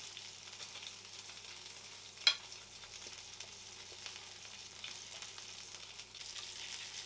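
Salmon sears in a frying pan with a steady, quiet sizzle and a single brief clink partway through, with no talking.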